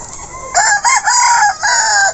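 A Brahma heritage rooster crows loudly and close by, with several drawn-out crowing calls that follow each other with brief breaks and no talking.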